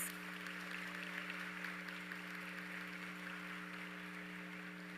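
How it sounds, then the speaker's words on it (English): Audience applause for honors graduates at a high school graduation ceremony, a steady broadband clatter of clapping sustained through the whole stretch over a constant low hum, moderately distant. "Let us applaud our Level 2 honors graduates."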